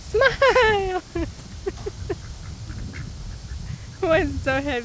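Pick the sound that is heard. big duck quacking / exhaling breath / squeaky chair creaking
big duck quacking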